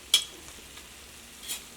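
A snack frying in oil over a low flame gives a soft, steady sizzle, with a couple of faint stirring clicks over a brief moment and no voices.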